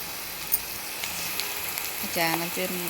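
Potatoes fry in a pan with a soft, steady sizzle and faint crackle, joined near the end by a few short tonal clinks or scrapes of stirring.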